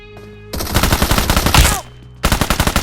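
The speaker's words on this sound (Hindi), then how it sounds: "एक और पोरा आता है और ये मेरे टीममेट पे गोली चला रहा है" Rapid bursts of automatic gunfire in the video game BGMI (PUBG Mobile), loud and close, in two long volleys separated by a brief pause.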